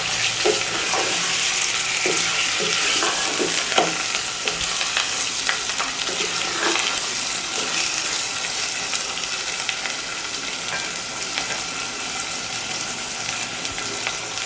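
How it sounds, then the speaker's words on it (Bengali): Beef pieces are tossed with spices in a hot pan for a beef curry with chana dal, giving a loud, steady frying hiss with a scattering of spoon scrapes and clinks throughout, no speech. "এবার মাংসগুলোকে ভালোভাবে নেড়ে চেড়ে মশলাটা মিক্স করে নিতে হবে।"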